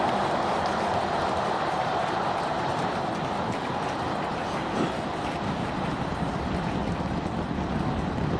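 Steady, dense roar from the 33 engines of a SpaceX Starship booster climbing away during the Flight 7 launch, a continuous broadband rumble heard from a distance without speech.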